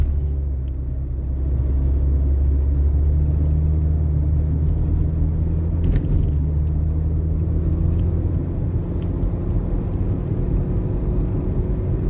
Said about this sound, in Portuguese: Deixa esses carros passar.